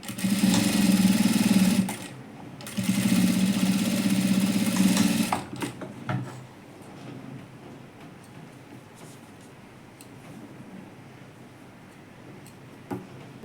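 Sewing machine stitching a princess-cut blouse seam, two loud close bursts of rapid mechanical whirring with a short pause between, then stopping into quiet room tone with small handling clicks.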